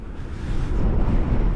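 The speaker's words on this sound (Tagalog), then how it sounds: "para tayong itutumba sa sobrang lakas ng hangin" A strong gust of wind roars against the microphone by the Daraitan River in Rizal, a dense low rumble that swells louder partway through and stays heavy.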